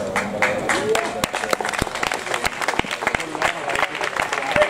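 Audience applause at the opening night of a folk festival in Collegno, with dense clapping throughout, loud and sustained, and a voice heard over it.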